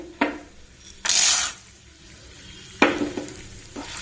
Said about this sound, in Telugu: ఆయిల్ వేసుకొని రెడ్ చిల్లీ కూడా వేసేసుకున్నాను ఇది కూడా వేగిపోతున్నాయి ఇప్పుడు పోపు గింజలు వేసుకుందామండి